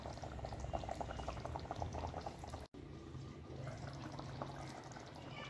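Vanjaram fish curry simmering in a pot, a steady close bubbling boil with dense popping and gurgling, continuous apart from a momentary cut, with no voices.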